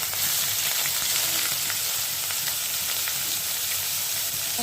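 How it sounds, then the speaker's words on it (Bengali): Bay leaves and coconut paste fry in hot oil, giving a loud, steady, close sizzle that carries on unbroken with no voices. "আপনারা এই মশলাটা কিন্তু ভালোভাবে ভেজে নেবেন"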